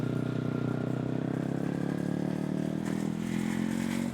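Yamaha R3 motorcycle leaning through a left-hand corner on the road, its engine holding a steady, close, continuous buzzing drone with wind noise building slightly toward the end.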